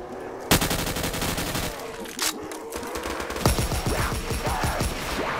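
An AK-47 fires in rapid automatic bursts in the Call of Duty Black Ops 3 video game. The shots are loud and close, and other guns crackle with them through the whole passage.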